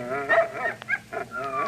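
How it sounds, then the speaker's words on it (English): Dogs barking and yipping in short, close bursts, a few quick barks and whines packed into under two seconds with nobody talking. "Dogs. That is the sound of dogs."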